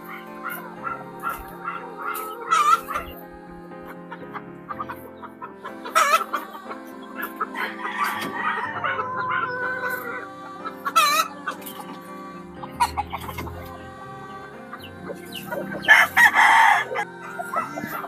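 Chickens cluck and squawk in a busy yard in the Philippines while roosters crow repeatedly, with a dog barking occasionally in the background.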